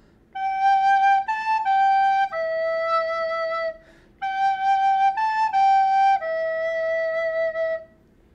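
Recorder playing the opening phrase of Silent Night, clear pure tones in a slow lilting melody, the same phrase played twice with a short pause between, close and solo.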